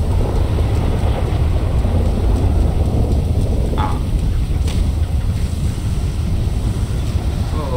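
Thunderstorm weather in the video game GTA V, with steady loud rain and wind-like rumble throughout and a low thunder roll among it, plus a brief faint tone near the middle.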